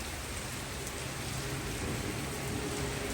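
Steady rain falls in Italy on a hot day, a dense, even hiss of drops striking surfaces that holds close and constant throughout, with no voices and no thunder.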